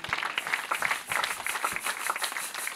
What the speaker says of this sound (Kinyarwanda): Amashyi kwa Yesu menshi.